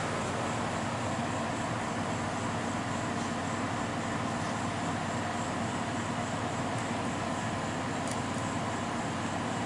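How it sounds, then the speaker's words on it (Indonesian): Electric cooling fan of a Suzuki Katana running with the air conditioning switched on and the engine off, a steady even whirring hiss with a few faint clicks. "Ini kipas sudah nyala."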